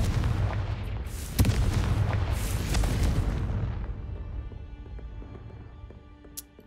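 A magical fire-blast spell in a Harry Potter–style video game sets off a deep, rumbling explosion with a sharp crack early on, then a roaring burn that slowly fades to quiet, ending with one small pop.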